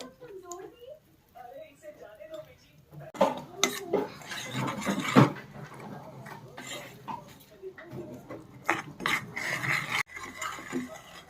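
A spoon scrapes and stirs thick dark jaggery syrup in a pan while making a sugar-free sesame seed chikki, with intermittent clinks and rasping strokes, and someone speaks over the stirring.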